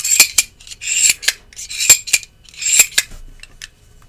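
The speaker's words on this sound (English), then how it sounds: "I love the sounds this knife makes. That titanium clacking against titanium." Sharp metallic clacks from a titanium Reate Exo gravity knife snapping open and shut, titanium against titanium, arriving in quick bursts with short pauses, close and crisp.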